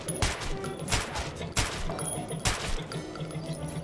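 Gunshots ring out in Metro 2033 Redux as four sharp, evenly spaced shots crack over a murky game background, fairly close and distinct.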